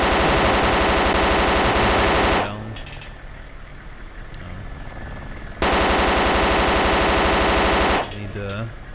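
Sustained bursts of automatic gunfire in the game Arma 2 DayZ, two long loud rapid-fire strings separated by a quieter gap with a single sharp shot, close to the listener.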